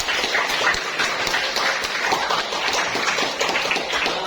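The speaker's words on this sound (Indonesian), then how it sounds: "Ya, kasih tepuk tangan dulu ya." Applause from an audience at a teacher-training session, a steady wash of many hands clapping at moderate loudness, continuous without pause and with no voices over it.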